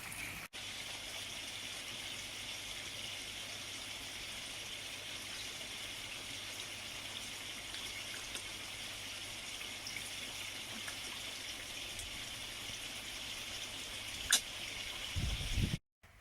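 Water runs steadily through a shower-style filter on a koi pond, a continuous even rush and splash close by that holds unchanged throughout, with a brief clatter near the end.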